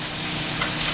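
Sausage sizzles in a frying pan, a close, steady crackling hiss with no voices.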